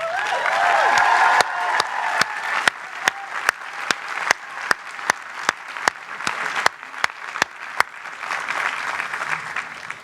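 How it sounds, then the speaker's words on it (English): A commencement audience at Harvard breaks into sustained applause, a dense crowd of clapping with one sharp, rhythmic clap standing out close by, fading toward the end. "they deserve a huge round of applause"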